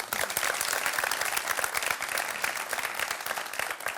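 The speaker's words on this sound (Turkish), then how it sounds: "Bir alkış rica ediyorum." A studio audience at a Turkish talk show applauds in a dense, steady wash of many hands, even and sustained throughout.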